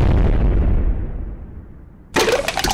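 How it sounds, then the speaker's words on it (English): A single loud gunshot inside a school in a crude animated cartoon, a heavy boom whose reverberant tail fades over about two seconds before a sharp, bright noise cuts in. "There's a fucking gunshot in the school."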